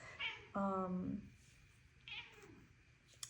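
A house cat meows twice nearby, a clear drawn-out meow followed by a softer, shorter one, over a quiet room background with faint voice-like murmur.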